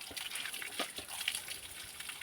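Cave spring water trickles and splashes softly as someone drinks from it inside a double cave on an 1100-foot hill, a faint, steady liquid patter close by.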